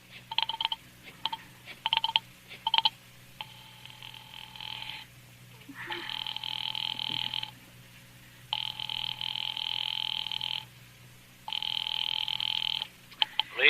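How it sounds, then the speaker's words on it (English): An old-fashioned telephone rings at a police department in an old-time radio drama, several long electric bell bursts with pauses between them, preceded by a few short clicks. "Ringing the police department."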